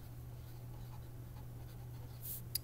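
Pen or pencil writing on paper during a classroom-style lesson, faint soft scratching strokes over a steady low hum, with a brief brighter scrape near the end.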